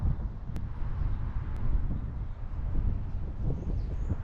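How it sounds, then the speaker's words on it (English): Strong gusts buffet the microphone on a cold, windy walk through the back blocks of Philadelphia's Strawberry Mansion neighborhood, a steady low rumble filling the whole stretch with no one speaking. "As y'all hear, it's really windy."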